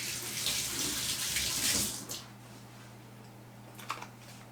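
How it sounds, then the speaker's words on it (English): Tap water runs into a sink during handwashing in a home kitchen, a moderate steady splash for about two seconds that stops, leaving a low hum and a few faint clicks. "let me wash my hands"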